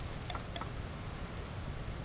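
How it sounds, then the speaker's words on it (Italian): Steady rain falls in the video game Vintage Story, a dense, even hiss throughout with a couple of faint ticking drops and no talk. "Il problema è che sta piovendo"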